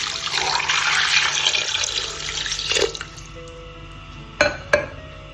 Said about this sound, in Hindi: अब हम इसके अंदर तकरीबन 3 गिलास पानी के ऐड कर देंगे।